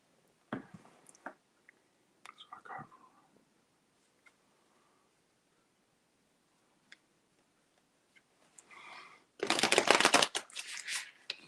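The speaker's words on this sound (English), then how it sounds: "You can hear the shuffling." A Gothic Witch's Oracle card deck being shuffled close by, with a few soft scattered card sounds early on, then a loud, dense burst of rapid shuffling near the end.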